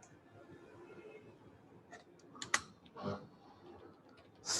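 Typing on a computer keyboard, a few quiet scattered keystrokes followed by sharper, louder clicks such as the enter key, close to the microphone in a quiet room.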